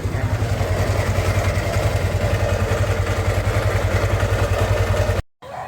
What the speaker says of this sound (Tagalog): ito yung tunog ng motor ni Bossing